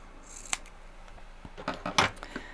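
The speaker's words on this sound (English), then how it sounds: "I just use scissors and I just trim along here" Several crisp scissor snips trimming fabric while quilting, close and fairly loud, coming in a quick irregular run with short pauses between cuts, no voices.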